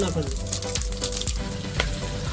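Whole brinjals (eggplants) fry in hot oil at an outdoor farm cook-up, giving a loud, crackling sizzle broken by repeated stirring clatters, close up with no talk.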